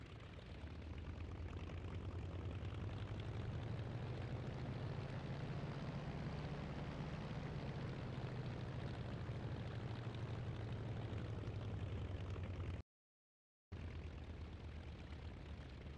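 Lavochkin La-7 fighter plane's piston engine rumbling steadily while taxiing in a flight sim game, a continuous loud drone broken by one brief dropout near the end.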